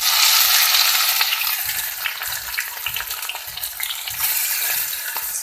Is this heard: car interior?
no